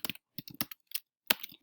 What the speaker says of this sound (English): I'm going to type it out.